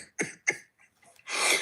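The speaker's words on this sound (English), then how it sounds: "Sorry, bad cough." Two sharp coughs in quick succession, a short pause, then a longer harsh, breathy cough, close and fairly loud.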